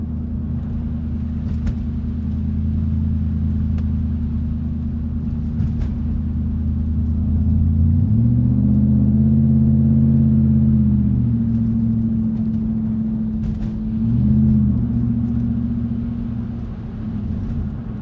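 Inside a car on a rough frozen road in Michigan, a deep steady rumble and droning vibration fill the cabin, swelling louder midway and again briefly near the end, with no talking.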